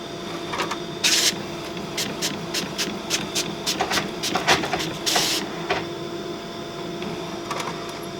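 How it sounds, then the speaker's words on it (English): An Epson C6500 ColorWorks label printer whirs and clicks in rapid short bursts, with a brief hiss of feeding and a steady mechanical hum beneath. "So I've printed my first label."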